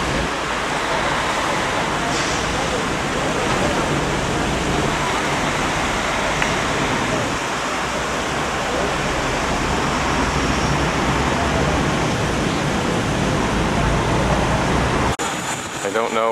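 Garden fountains outside St Paul's Cathedral in London give a steady, loud wash of splashing water that holds without a break, then cuts off abruptly near the end.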